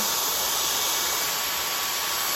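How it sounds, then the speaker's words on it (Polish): A vacuum cleaner runs continuously indoors, giving a loud, steady, close-up whooshing roar with a high whine that holds level throughout. "Odkurzacz przerażający chodzi"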